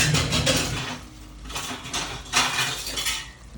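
Kontomire stew cooking in a pot, with clinking of metal pots and utensils over a soft, continuous sizzle and bubble, close and moderately loud, no talk.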